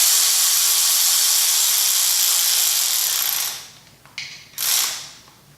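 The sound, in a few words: impact wrench running down 10mm bolts on Honda engine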